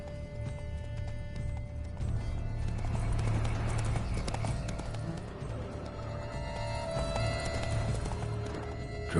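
Roach, a horse in The Witcher 3: Wild Hunt, gallops in a steady, rapid clip-clop of hooves with a whinny rising near the middle, loud and continuous over a low game ambience.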